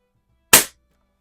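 A single sharp crack from an original Barra 1866 .177 multi-pump air rifle fired inside a garage, close and loud with a quick decay into silence.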